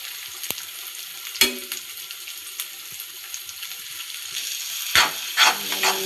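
Egg podimas being stirred in a pan, a soft steady sizzle with a few sharp scraping clinks of the spatula against the pan, close and alone.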